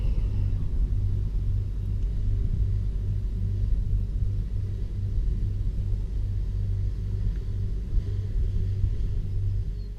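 A farm tractor's heavy engine rumbles steadily at idle, close by and loud, with a low throbbing drone that stays even throughout and no voices.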